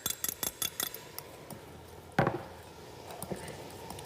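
A utensil clinks and scrapes against a bowl while butter is stirred into a cheese mixture for garlic-butter biscuits. The taps are quick and close, come in a cluster at first, then turn sparse, with one louder knock midway.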